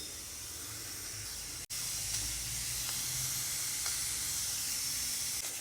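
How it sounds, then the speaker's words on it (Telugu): Steady loud hiss of steam from a pressure cooker cooking broad beans, continuous and close, with a single brief dropout partway through. "కుక్కర్ సౌండ్ స్టార్ట్ అయిందండి"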